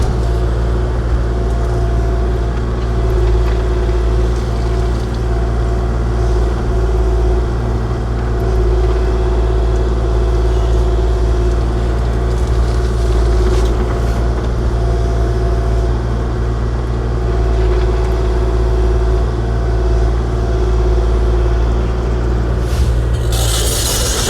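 Kubota KX040-4 compact excavator engine running steadily at night on a sloped trailer road, a continuous loud low diesel rumble with a constant drone and faint mechanical rattles throughout.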